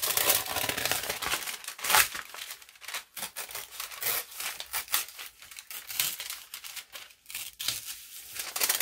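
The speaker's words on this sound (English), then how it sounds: "So bear with me while I do a little bit of tearing." A paper return envelope that was stuck shut is being torn open by hand. Close, bright ripping and crinkling comes in irregular bursts over several seconds, without any talking.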